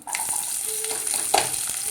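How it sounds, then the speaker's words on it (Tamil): Hot oil crackles and sizzles steadily up close in a pressure cooker as mustard seeds, fennel and cumin are tempered, with small popping spatters and a brief stirring sound. "நான் குக்கரில் தான் தாளிக்கிறேன் கடுகு சோம்பு சிறுகம் இது போட்டுக்க"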